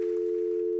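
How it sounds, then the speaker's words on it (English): A telephone dial tone holds as one steady, unbroken hum, clear and close, with no voices. "we took the dial tone"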